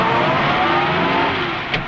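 A car engine revs and accelerates as the vehicle drives off, a loud close roar holding steady before easing slightly, with no talk over it.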